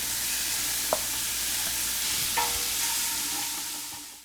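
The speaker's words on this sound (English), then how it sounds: "I'm going to stir it around and now dump in our vegetables. Onion, red pepper, celery." Bacon with onion, red pepper and celery sizzling in a pan while being stirred for a smoky chicken, bacon and corn chowder, a loud continuous fry with two sharp utensil clinks and a gentle fade at the end.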